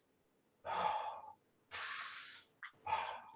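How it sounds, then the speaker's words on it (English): Slow, gentle connected breathing, two long airy inhales and exhales with a brief catch between, close and clear in a quiet room. "You know, you can do a gentle connected breathing rhythm."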